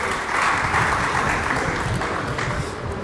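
An audience at a national seminar applauds to welcome a professor chairing the program, a dense, steady wash of many hands clapping that stays loud and even throughout.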